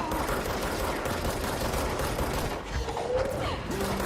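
Rapid gunfire in the video game Control, a dense, continuous clatter of shots and mechanical effects, loud and steady throughout with no clear gaps.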